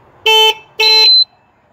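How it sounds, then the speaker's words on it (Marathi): A Bajaj M80 moped horn honks twice, two loud, close, buzzy blasts about half a second each with a short gap between them, followed by quiet. "हा हॉर्न,"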